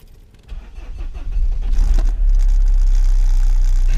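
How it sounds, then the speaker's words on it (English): The diesel engine of a Vauxhall Omega 2.2 DTi cranks briefly with a whirring starter, catches, and settles into a loud, steady close-up idle. "I'll start the car up and let you hear this"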